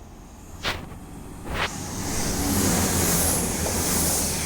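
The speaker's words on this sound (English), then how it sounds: "the final train of the day will be a Class 195 running from Chester to Leeds via Halifax" A Class 195 diesel multiple unit passes through Castleton station on a Chester to Leeds via Halifax service, its rumble building steadily into a broad, rushing roar after two brief sharp clanks.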